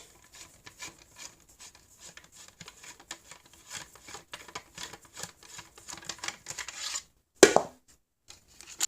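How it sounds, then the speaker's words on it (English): A screwdriver backs a screw out of a Hasbro Titanium Series Ultra AT-AT toy, giving a soft stream of small scraping, ticking clicks up close, then one sharp plastic knock near the end. "So let's slide the screwdriver up there and take the other screw out."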